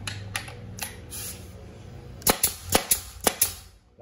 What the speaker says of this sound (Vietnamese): súng đinh F5 nhá